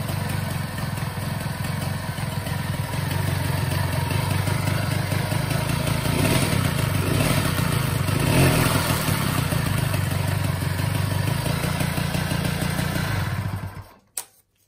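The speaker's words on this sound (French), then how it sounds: "J'essaie de la faire démarrer à une main. Alors sans starter, je sais pas si elle va tourner. Bon bah ça tourne plutôt bien hein." A Peugeot 103 S moped's small two-stroke engine runs steadily at idle after a one-handed start without the choke, close and loud with a rattly buzz throughout, cutting out abruptly near the end.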